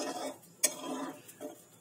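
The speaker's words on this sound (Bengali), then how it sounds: "এবার ঢাকনা দিয়ে ঢেকে দেবো মুলোটা সিদ্ধ হওয়ার জন্য" A lid is set onto a pot of radish being boiled, a quiet metallic clink standing out briefly among faint soft kitchen clatter.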